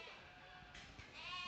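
Goats bleat in the show ring of a 4-H/FFA dairy goat show at the Laramie County Fair, a few faint, overlapping calls amid steady crowd and arena background noise.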